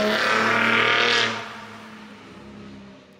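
A 2021 third-generation Ford Raptor's engine and exhaust rev loudly and close, holding a strong roar for over a second before easing off into a lower, fading rumble.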